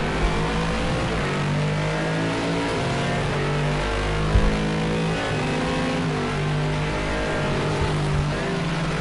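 A Bentley GT3 race car engine drones loud and sustained at a racing circuit in the Algarve, holding a steady high-revving tone with brief shifts in pitch as the car runs on.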